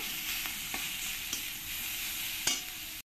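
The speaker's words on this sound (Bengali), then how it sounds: "রসুনটাকে আমি একটু ভালো করে লাল লাল করেই ভেজে নেব।" Steady hiss of garlic frying in hot oil until reddish-brown, with occasional stirring scrapes and clinks, close up and continuous throughout.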